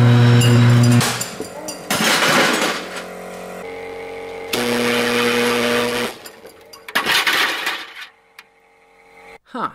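Thermite ignites inside a 20,000-watt microwave oven: loud bursts of crackling, roaring noise start and stop over a steady electrical hum, ending in a sharp crack as a beaker breaks and brief rattling.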